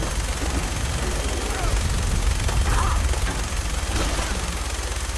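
Gunfire at a monster in Fallout 4: dense, continuous bursts of shooting and booming impacts form a loud, unbroken roar, with a voice talking partly underneath.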